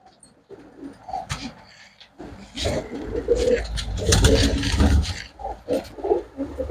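Pure-breed pigeons coo in low, throaty murmurs, repeated over rustling and background noise that swells toward the middle.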